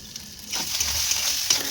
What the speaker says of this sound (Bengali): আলুগুলো দিয়ে এখন ভালো করে এটাকে ভেজে নিতে হবে।